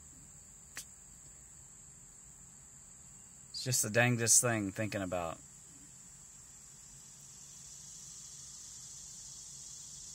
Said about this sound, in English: I love the sound of summer. Cicadas up in the trees.